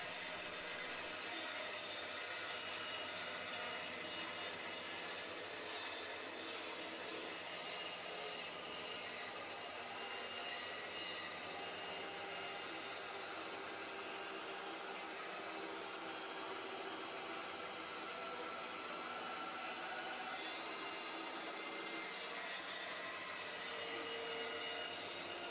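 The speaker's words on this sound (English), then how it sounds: "Here I'm over at the bandsaw and I'm cutting out a template which I will be using for the project" A bandsaw steadily cuts a wooden template from timber in a workshop, giving a continuous, even whine with rasping wood texture that runs for the whole stretch without talk.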